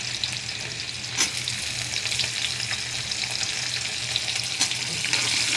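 Green chilies sizzle and fry in hot oil in a pan, a steady close crackle with a few louder pops and stirring scrapes, no voices.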